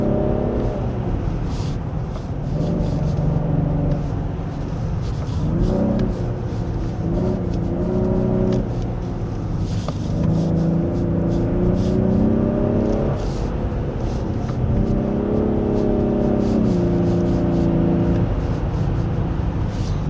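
A 2024 Genesis G80 3.5 turbo AWD accelerating along a winding road, its engine note rising and falling through repeated revs and gear changes, heard steadily from inside the car under road and tire noise.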